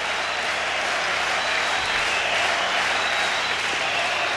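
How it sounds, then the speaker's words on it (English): Crowd at Estadio Latino Americano during a baseball game between the Baltimore Orioles and Cuba, a steady, loud wash of cheering and applause with no breaks. "And the crowd here at Estadio Latino Americano trying to inspire Linares."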